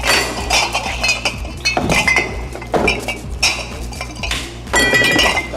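A bartender handles highball glasses during a timed cocktail-mixing competition, producing repeated bright clinks and clatters of glass close by, in quick irregular bursts over a steady background hum.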